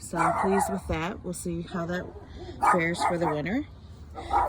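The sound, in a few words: dogs barking outdoors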